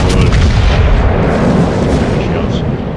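A heavy naval gun salvo from the battleship Gneisenau in a warship game, one loud booming blast with a rolling, rumbling decay that fills the whole moment.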